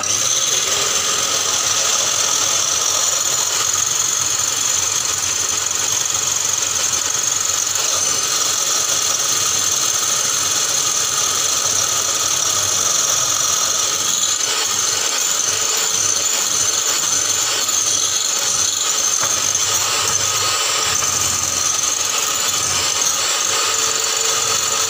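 An electric mixer whips cream for a chocolate bûche, a loud, steady high-pitched motor whir running continuously without pause.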